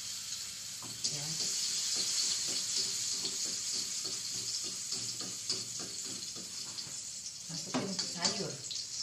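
Garlic frying in hot oil for a noodle soup dish gives a steady broadband sizzle throughout, with occasional clinks of a utensil and a brief spoken word over it.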